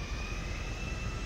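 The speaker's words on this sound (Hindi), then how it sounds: "अच्छा प्लेन की आवाज़ है" A jet airplane roars steadily overhead in the GTA 5 video game, a constant loud broadband rumble with a faint high whine running through it and no speech.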